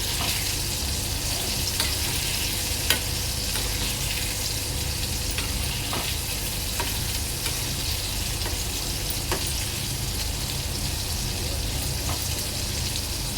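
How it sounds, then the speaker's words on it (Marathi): Chicken popcorn pieces fry in hot oil over medium heat with a steady, even sizzle and scattered small pops and crackles, heard close up with no talking. "जास्त फास्ट नाही आणि जास्त स्लो नाही, मध्यम आकारावर तळून घेणार आहे।"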